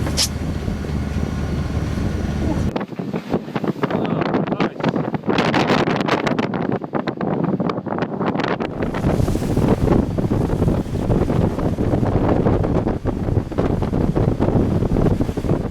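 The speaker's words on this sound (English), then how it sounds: "Well, the wind's got up now. It's 21, 22 knots at the moment." Strong wind of about 21–22 knots roars across the microphone aboard a Moody 40 yacht sailing near Watchet Harbour, North Somerset, with surf and water rushing against the hull in a loud, steady, continuous blast.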